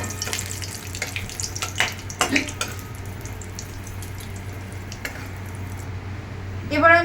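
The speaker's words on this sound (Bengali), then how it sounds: "চারটে এলাচ চারটে লবঙ্গ আর হাফ ইঞ্চি মতো ছোটো ছোটো করে টুকরো করে কাটা দারচিনি এটাকে হালকা করে একটু ভেজে নেব" Cardamom, cloves and small pieces of cinnamon frying lightly in oil, a soft continuous sizzle broken by scattered spoon clicks and scrapes over a low steady hum.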